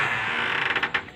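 A door swings open with a long, strained creak that breaks into a rattle of quick ticks near the end, close and steady with no voices over it.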